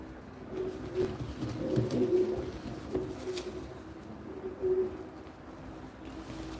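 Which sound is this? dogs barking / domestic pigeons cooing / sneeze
domestic pigeons cooing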